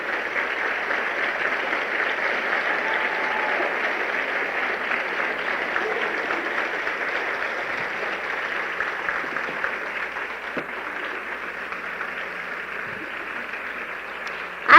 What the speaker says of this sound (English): Let's give our top 10 sales directors a round of applause